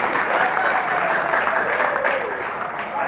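A crowd claps for the chairman at a gathering, continuous, moderately loud applause with a faint murmur of voices or cheering blended underneath.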